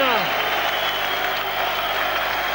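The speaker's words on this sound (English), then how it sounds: "let him milk the applause as long as he can" A boxing arena crowd applauds WBO featherweight champion Steve Robinson after his title fight against Freddy Cruz, a broad continuous roar of clapping and cheering with a commentator's voice over it.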